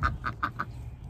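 Several ducks on a small farm quack in a quick run of four loud, nasal calls close by, with a faint low background hum and no talking.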